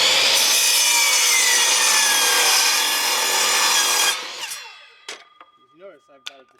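A very sharp handsaw rips through wood near at hand, cutting a 6 inch piece for stoppers on a cheap chicken brooder with rapid rasping strokes that stop after about four seconds. A few wooden knocks and faint chirps follow.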